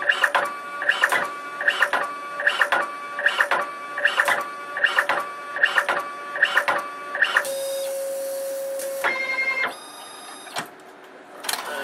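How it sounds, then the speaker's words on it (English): A Fargo HDPii dual-side financial card printer runs a colour test print, cycling through a series of regular mechanical whirring pulses, then a sustained motor drone and a few higher servo whines before settling. "I'm just going to run a test print on the colored printer for you as well"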